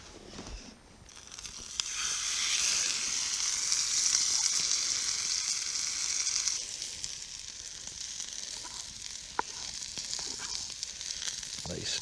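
Fillet steak sizzles steadily in a pan at a solo wild camp, a loud continuous frying hiss that swells early and holds for the whole stretch, with a few faint crackles and clicks and no talk.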